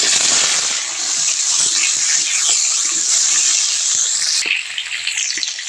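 Potatoes hit hot mustard oil in a kadai with a loud, continuous frying hiss and crackle that eases slightly near the end.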